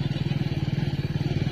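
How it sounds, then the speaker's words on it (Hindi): Motorcycle riding along a dusty road, a steady close engine putter with a fast regular pulse, loud and continuous. "रोड पे रूपाराम के पीछे पीछे, मैं भी जा रहा हूँ बाइक लेके।"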